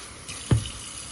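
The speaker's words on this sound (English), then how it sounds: "It doesn't matter what water you use, you can use tap." Tap water runs briefly while dough for Jamaican fried dumplings is being mixed: a short, faint splash and gush over quiet background hiss, lasting about a second.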